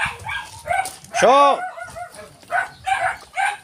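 Dogs bark outdoors on a rural country walk in the province, with people talking throughout; a loud, drawn-out yelp or howl rises briefly in the middle, between bursts of speech.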